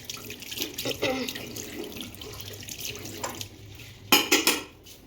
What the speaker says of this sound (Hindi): तब तक मैं हाथ धो लेती हूँ